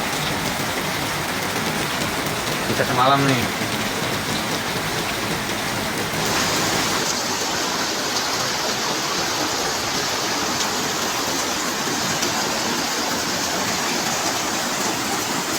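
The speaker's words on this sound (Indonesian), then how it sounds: "Hujan lebat lagi nih." Heavy rain pouring down during a flash flood in Sukabumi, on the Simpenan–Palabuhanratu road area: a loud, steady, hissing downpour throughout, with a brief voice speaking near the start.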